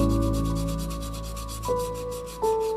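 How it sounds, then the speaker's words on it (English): Fine 1500 grit sandpaper rubs steadily over the body of a 1/24 scale Nissan Skyline R32 GTR model car, a close, continuous back-and-forth scratching with no pauses. "Then I take some 1500 grit sandpaper and sand it down smooth."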